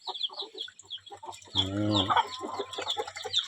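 A flock of Muscovy ducks peeps and chirps in rapid, repeated high calls nearby in a pen, with a brief low voice partway through.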